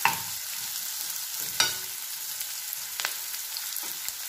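Onions fry in hot oil for an Andhra-style prawn fry, a steady soft sizzle with a few sharp scraping clicks of stirring in the pan, fairly quiet and with no talking.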